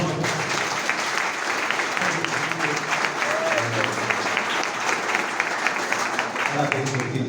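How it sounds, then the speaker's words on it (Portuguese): Guests at a church wedding ceremony clap steadily after the rings arrive, a full, close round of applause with voices murmuring underneath. "Uma salva de palmas."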